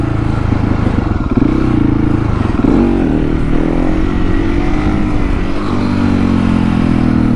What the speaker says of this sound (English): we come down here and re-practice second gear wheelies on the worst road possible.